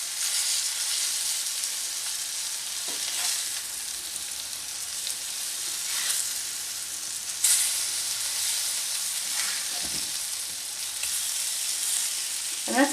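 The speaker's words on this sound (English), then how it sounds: "I'm going to turn the fish over so it can cook on the other side." Bass fillet in a cornstarch coating fries in a pan with a loud, continuous sizzle and hiss, broken by a few scrapes and clatters as the fish is turned.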